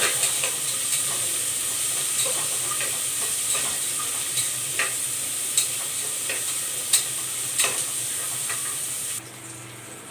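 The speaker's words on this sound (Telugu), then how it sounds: "ఆనియన్స్ ఫ్రై అయిపోయాయండి." Green chillies and onions fry in a pan for veg biryani: a steady, close sizzle with regular scraping stirs and light clinks, and no one talking.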